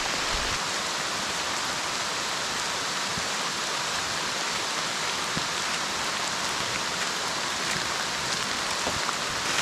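Steady light rain patters continuously, a soft even hiss of drizzle with faint scattered drops, no voices.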